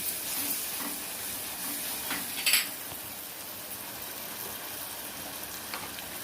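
A paste of cumin, ginger, garlic and coriander sizzles and fries in a pot, a soft steady hiss with a few brief scrapes and clinks of stirring near the start.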